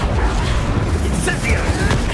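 An Expulso blasting spell goes off in Hogwarts Legacy with heavy booming detonations and crackling impacts, loud and close, while a character's voice sounds over the blasts.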